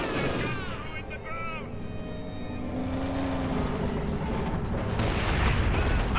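Flak Panzer in Company of Heroes 2 firing 37mm high-explosive shells at close range against infantry, a dense stream of gunfire and blasts running continuously through the battle noise, with someone talking over it.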